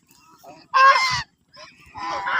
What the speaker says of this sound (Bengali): সন্ধ্যা হয়ে গেছে, হাঁসগুলো এখন খামারের দিকে যাইতেছে